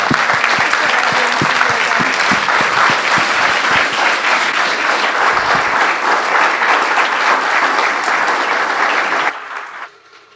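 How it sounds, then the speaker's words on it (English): Church congregation applauding at a Sunday service, loud dense clapping sustained for several seconds before quickly fading out. "Your applause means so much."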